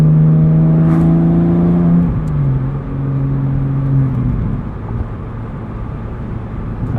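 A Porsche Boxster engine revving past 5,500 RPM, a loud, close, sustained rising drone that steps up in pitch as it pulls harder, then fades into rumbling road and wind noise.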